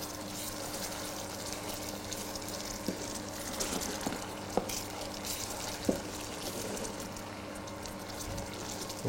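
Salted butter stirred into bubbling caramel in a saucepan, giving a steady low sizzle and soft bubbling with a few faint clicks and stirring knocks, close and quiet, with no talking.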